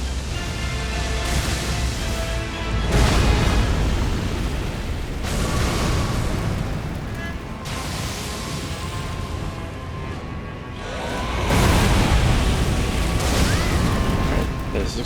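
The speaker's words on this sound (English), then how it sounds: "Right, there's explosions after that" Heavy booming explosions from combat in Elden Ring Shadow of the Erdtree, loud bursts repeating every few seconds under a dense rumbling game soundtrack, with a brief lull before a final swell.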